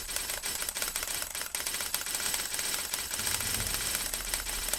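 Rapid, steady clicking from lockpicking practice in the Oblivion video game, a dense continuous rattle of game sound effects at constant loudness with no talk.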